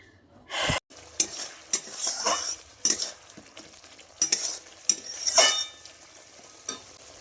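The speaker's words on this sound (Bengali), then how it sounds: "এখন এই যে মাছের মশলা করছি মাছগুলো ভাজা আছে মশলা বানাচ্ছি" Fish curry masala fries in a pan while being stirred, with repeated sharp scraping strokes of a utensil against the pan over a low, continuous sizzle, close and fairly loud.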